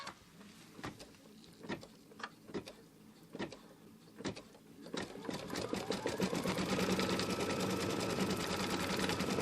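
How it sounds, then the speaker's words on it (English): A Kimberbell embroidery machine stitches out a placement line on fabric: a few separate clicks and thumps first, then the motor starts and runs as a loud, steady, close whirring chatter. "So let's put the foot down, stitch this out."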